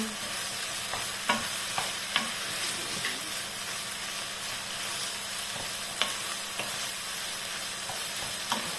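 A spoon stirs and turns food sizzling in a hot pan, steady frying hiss broken by scattered scrapes and clicks of utensil against the pan, close and moderately quiet.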